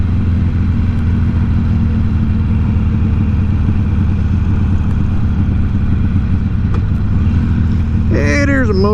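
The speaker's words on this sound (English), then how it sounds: "Hey, there's a motorcycle." A motorcycle fitted with tall ape hanger handlebars passes under the steady rumble of a car's own engine, its sound blending into the constant low drone before a brief rising whine near the end.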